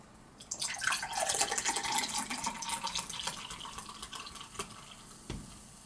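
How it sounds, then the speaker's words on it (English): Cherry soda poured into a glass, a fizzy, splashing rush that starts loud and slowly settles into softer bubbling and a few late drips. "we're just going to pour some soda in our glass"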